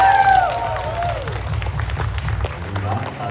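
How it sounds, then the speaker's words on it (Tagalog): Applause from a congregation at an El Shaddai church service in Seattle, a steady crowd clapping that fills the room and continues at an even level throughout, with a speaking voice briefly over it at the start. "pumalakpak!"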